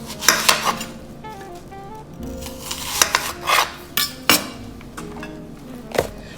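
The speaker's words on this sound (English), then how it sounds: "We have a medium sized onion. We're just going to cut that in quarters." A knife cuts a medium onion into quarters on a cutting board, several sharp, close chops and knocks at irregular intervals with faint clatter between them.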